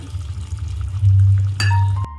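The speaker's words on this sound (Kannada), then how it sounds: "ಪುಳಿತ ನೀರು ಪಾಡು" Tamarind water poured into chicken sukka frying in a pan for a Tulu-style recipe, giving a steady low rushing pour with a brief sharp clink and splash near the end. No talk.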